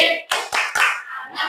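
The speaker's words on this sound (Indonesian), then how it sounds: "kita tepuk halal terlebih dahulu" A school class performs the tepuk halal clapping chant, with several sharp rhythmic group claps mixed with children's chanting voices in a short, lively burst.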